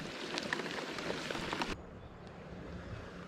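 Rain falls beside a river in a steady broadband patter. It is strong at first, then abruptly becomes quieter and more muffled partway through, continuing faintly with occasional drops. No voices.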